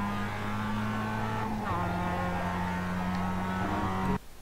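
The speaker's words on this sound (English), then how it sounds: "Now I'm shifting up into fourth at this point as well, so that's my slight lift" A Mazda MX-5 Cup race car at Okayama in a racing simulator holds a steady, loud engine drone, with a brief dip and pitch change as it shifts up a gear, before cutting off abruptly near the end.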